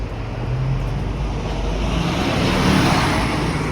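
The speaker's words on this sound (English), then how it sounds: "There goes the bendy bus" Bendy bus on a Brussels street rolling past with an engine rumble and tyre roar that swells and then fades within a few seconds, set against background traffic noise.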